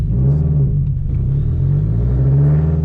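A 2004 Subaru WRX STI with an aftermarket clutch drives with its engine droning steadily, a loud continuous low rumble that swells slightly as it revs, heard from inside the cabin with no talk.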